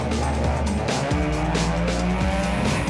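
Supercars at Zwartkops circuit roar off the start of a race, a dense, loud wall of engine noise with tire squeal and skidding throughout, no talking.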